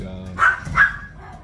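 Two short dog barks from a pet dog in the background of a home, spaced about half a second apart and set against low, steady room noise.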